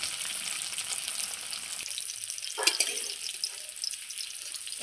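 Ash gourd pakoras frying in hot oil give a steady, fairly quiet sizzle, with a brief scrape or clink partway through as pieces are lifted out.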